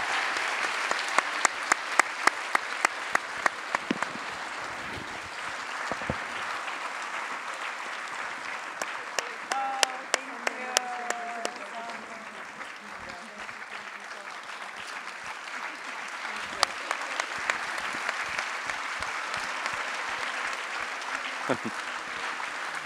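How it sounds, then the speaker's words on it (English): Audience applause at an award ceremony, a steady, sustained wash of clapping from a large crowd with sharp individual claps standing out and faint voices underneath. "please give Professor Erakat a final round of applause to thank her"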